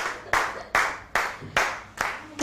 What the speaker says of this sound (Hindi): क्लैपिंग ही रुकनी चाहिए भाई